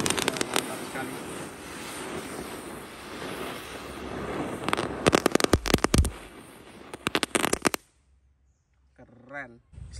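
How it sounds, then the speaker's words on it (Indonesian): A spinning wheel firework, a crackling ground spinner, sputters and hisses inside a hole, then breaks into a rapid burst of loud sharp cracks before cutting off, leaving near silence with a faint voice at the end. "Selanjutnya kita nyalakan mercon roda gila atau gangsing pretek di dalam lubang"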